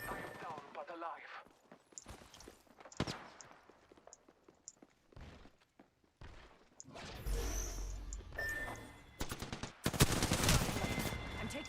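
Video-game gunfire sounds in scattered sharp cracks and short bursts, with a denser barrage of shots toward the end over background game noise.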